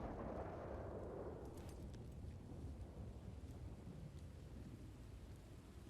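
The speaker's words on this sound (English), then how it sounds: "A moment, you're riding in the plains and then a storm kicks in." Thunderstorm in the DayZ video game: a deep, continuous rumble of thunder and rain, loud at first and then settling into a steady low roar, with no voices.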